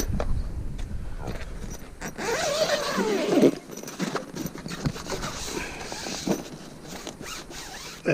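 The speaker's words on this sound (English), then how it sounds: "and zip it all down" A zip runs down along a Rolef fabric screen fitted to the rear of a Hymer Aktiv motorhome, a long rasping pull of several seconds, close and fairly loud, with no talking.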